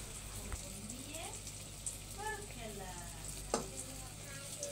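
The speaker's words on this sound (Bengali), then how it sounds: "প্রথমে আমি বেগুনের চপ দিয়ে ভাজি শুরু করলাম" Eggplant chops (begun chop) frying in oil, a steady bubbling sizzle close by, with a voice talking faintly over it and an occasional clink of a utensil.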